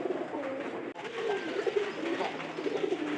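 Pet pigeons kept indoors during rainy weather coo in a low, continuous murmur close by, with a small knock partway through.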